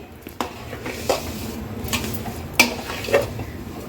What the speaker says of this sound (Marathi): अगदी लो फ्लेमवर आपल्याला हे व्यवस्थित मिक्स करायचं आहे